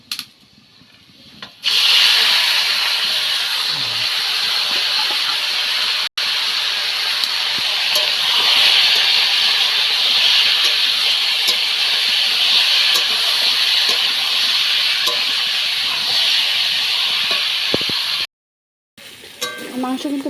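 Chicken meat tossed into spices frying in a wok sends up a loud, steady sizzle that runs nearly unbroken, with a brief cut-out near the end.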